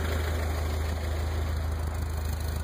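A 1985 Toyota Celica GT with 108k original miles idling steadily, a smooth continuous low engine hum with even rhythm, close and fairly loud, with no voices.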